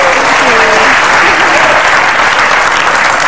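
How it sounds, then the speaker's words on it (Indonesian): A television studio audience breaks into loud, dense applause for a guest, a sustained wash of clapping close up, with a voice briefly audible under it at the start. "Tepuk tangan untuk Angelin."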